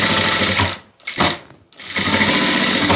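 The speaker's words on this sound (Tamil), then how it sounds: "வச்சுட்டு இந்த லைனிங்க்கு மேலே 1/2 இன்ச்சில் வந்து தையல் போட போகிறோம்." A sewing machine stitches lining onto blouse fabric in a fast, loud whirring run that pauses briefly, restarts for a moment, stops again, then runs steadily to the end, with no talk.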